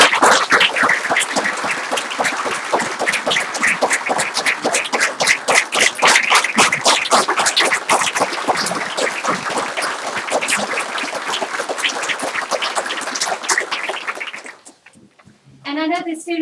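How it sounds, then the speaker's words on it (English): Sustained applause for students at a school board meeting: dense, loud clapping from an audience fills the room for about fourteen seconds before fading out, and a few faint voices follow. "Let's give all these students a round of applause."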